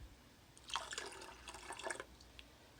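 Calcium water for low-sugar Pomona's pectin grape jelly being poured into a measuring cup in a home kitchen, a faint, close trickle in two short bursts with quiet gaps.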